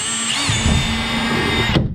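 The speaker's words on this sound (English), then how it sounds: "So now I can go ahead and grab my 1/8 inch drill bit and drill that out." Power drill with a 1/8 inch bit boring into a tractor cab hardtop, a close, steady whine with a slight pitch shift as the bit bites, running about two seconds before cutting off abruptly.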